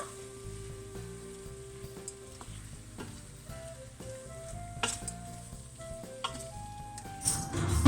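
Chard with a pinch of salt frying in a pan, a gentle continuous sizzle with soft scraping stirs and light utensil knocks, close up and fairly quiet, growing busier near the end.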